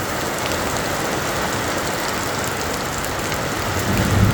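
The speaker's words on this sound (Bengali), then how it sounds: "কিন্তু এখন যে বৃষ্টি হচ্ছে" Steady rain pours down during a break after several days of drought, a dense, even hiss that swells slightly toward the end, with no voices.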